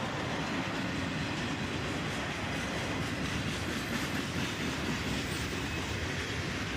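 Conrail and CSX freight boxcars roll steadily past at close range, a continuous rumbling rush of wheels on rail with no break.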